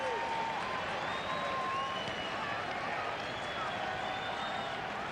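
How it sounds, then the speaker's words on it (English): A big baseball stadium crowd cheers and roars steadily at a Cardinals versus Tigers game after a tying run in the top of the fifth, a dense, even wash of noise with whistles rising above it. "This big crowd comes alive"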